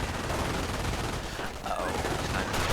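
Machine gun fire rattles through a video game battle as a dense, continuous burst of overlapping shots, loud and unbroken.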